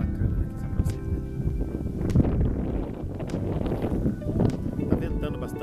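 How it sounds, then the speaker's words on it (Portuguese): Strong wind on a hilltop in rural Paraná buffets the microphone with a continuous low, rumbling roar and uneven gusts, loud and close throughout. "Tá ventando bastante, com certeza vai ficar o barulho"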